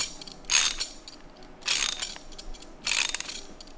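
Three bursts of ratchet clicking from a wrench with a 17 mm long socket tightening a custom brake line fitting on a classic Mini, each burst about half a second long and evenly spaced, close and moderately loud.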